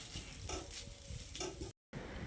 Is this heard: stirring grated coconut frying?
yes